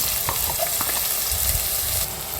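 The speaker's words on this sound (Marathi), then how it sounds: "आतां तितून पियाज घालया बारीक कांतून. मातशें भाजून" Finely chopped onions sizzle and crackle steadily in hot oil in a pan, with a few soft stirring scrapes, close and continuous with no talking.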